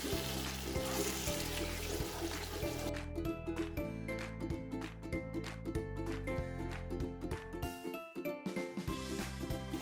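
Sliced green chili or serrano peppers sizzle in a pan of cooking Pakistani channa daal while being stirred. There is steady frying hiss with repeated scraping stir strokes, close and fairly loud, and no talking.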